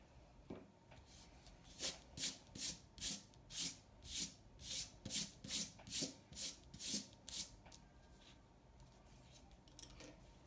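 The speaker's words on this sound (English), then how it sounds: "go ahead and lightly erase to where you can just see it like barely as a guideline" An eraser lightly rubs pencil guidelines off watercolor paper for an owl painting, about a dozen quick, even back-and-forth strokes, close and soft, then fading to quiet.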